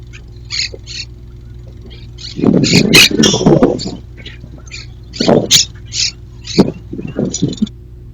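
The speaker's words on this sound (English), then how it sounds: "Did you hear those birds? Those are green parakeets." Several bursts of harsh, squawking calls from a flock of green parakeets, loud and overlapping, separated by quieter pauses over a low steady hum.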